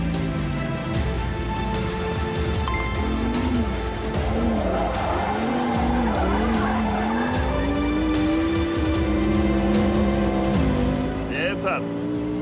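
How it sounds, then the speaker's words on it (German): An Audi R8 drifting in a timed island driving duel, its engine droning with shifting pitch under continuous tire skid and squeal, while a commentator talks over it. "Wie viele Sekunden kann er nun in Drift vorlegen"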